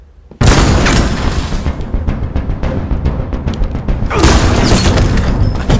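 A loud gunshot boom in Detroit: Become Human hits abruptly after a quiet moment, followed by a dense, rumbling wash of shots and impacts that surges again toward the end.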